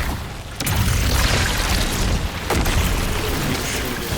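Destiny 2 Hunter diving down with a Strand ability, a loud booming impact followed by a sustained roaring, crackling wash of game combat noise with a second hit midway.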